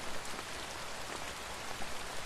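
Steady rain falling on a road in the Kudremukh hills, a dense constant hiss of drops, fairly faint and unbroken, with no voices.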